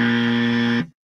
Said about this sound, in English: that was an acceptance buzzer of his answer